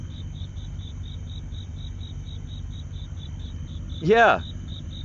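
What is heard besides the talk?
crickets chirping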